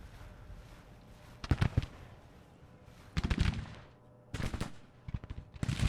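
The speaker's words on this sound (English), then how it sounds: "Now they're going from artillery." Cannon blasts in a Civil War strategy game, arriving as three clustered volleys of sharp booming reports over a low steady background hum, moderately loud with quieter gaps between.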